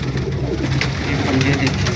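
A high flyer pigeon coos in low repeated phrases close by at a pigeon market, with people talking in the background.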